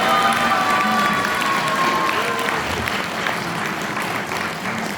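A crowd at Song Young-gil's book launch event in Daegu applauds, with some cheering. The clapping is dense and sustained, close by, and a faint tone sounds early on.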